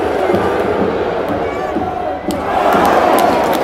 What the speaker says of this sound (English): The crowd was urging him all the time to shoot.